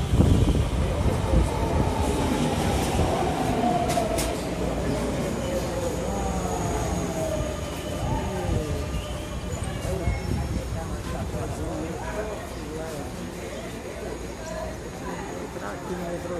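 A metro train rumbles and squeals along a station platform in Fortaleza, Brazil, steady and fairly loud, while voices chatter throughout.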